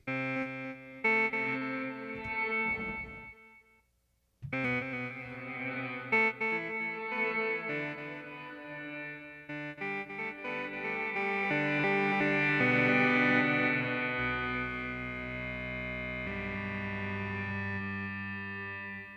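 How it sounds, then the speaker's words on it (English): An EHX Mini Synthesizer plays sustained, heavily processed tones with lush plate and reverse reverb tails and swelling, reversed-sounding washes, alone without talk, briefly pausing before continuing. "You have a plate reverb and you have a reverse reverb."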